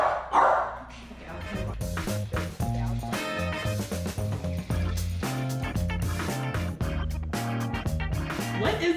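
A dog barks repeatedly indoors during an interview setting, its sharp barks sounding over music playing throughout, with voices present.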